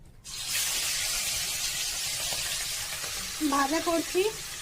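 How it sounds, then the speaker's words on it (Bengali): Fish fries on a wood-fired stove, starting abruptly as a loud, close sizzle that hisses steadily, while a voice briefly speaks over it near the end. "চলো মাছটা এখন ভাজা করছি।"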